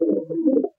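A single short coo from a pigeon in a loft, a low, soft, close burbling call lasting under a second.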